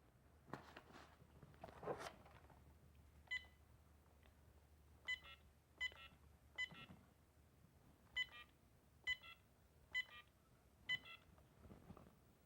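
A telephone number is punched into a phone: a string of short dial-tone beeps, a few quick ones early, then a slower evenly spaced run of about a dozen presses, clear and close in a quiet room.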